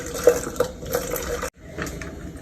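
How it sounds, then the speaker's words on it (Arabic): Hot water splashes into a cup in several short gurgling pours, separated by brief pauses, heard close and moderately loud. "هحط شوية مية سخنة"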